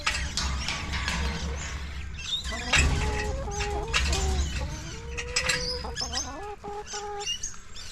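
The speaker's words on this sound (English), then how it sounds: "We've just got to get in here without these chickens getting out." Chickens cluck and squawk in a pen in the Adelaide Hills, with several birds calling close by in rising, drawn-out notes over a busy rustle of movement and wing flaps.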